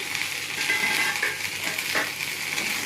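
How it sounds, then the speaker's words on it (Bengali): Lightly fried okra and potatoes sizzle in a pan in a dense, steady crackle, close and loud, with a brief faint clink partway through and no talking. "আমার ঢেঁড়স আলু হালকা ভাজা ভাজা হয়ে গেছে।"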